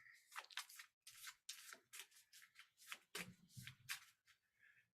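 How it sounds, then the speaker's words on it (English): Tarot cards riffled and shuffled by hand in quick bursts of crisp papery flutter, separated by brief pauses, close and fairly quiet with no voices. "So here we are, I'm shuffling the cards."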